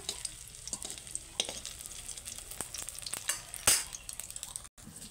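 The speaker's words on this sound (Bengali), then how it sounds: "সমস্ত ডিমগুলোই আমার ভাজা হয়ে এসছে" Eggs frying in oil for egg masala curry give a quiet, steady crackling sizzle with sharp spatter pops and a brief louder burst near the end, heard close without talk.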